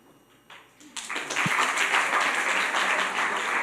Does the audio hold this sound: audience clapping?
yes